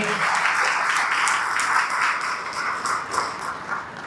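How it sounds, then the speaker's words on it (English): Sustained audience applause fills a banquet room at a Marlborough Regional Chamber of Commerce awards celebration honoring business anniversaries, a steady dense clatter of many hands that fades slightly toward the end. "we all want to give them a round of applause"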